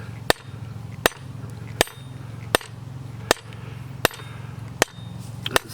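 A blacksmith hammers a hot metal bar on an anvil: about eight sharp, ringing blows land at an even, unhurried pace over a low, steady forge hum.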